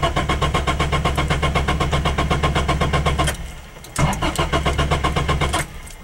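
Z6 Turbo snowmobile engine cranking over and over without catching, a fast steady starter churn that stops abruptly around three seconds, pauses briefly, then resumes, loud and close.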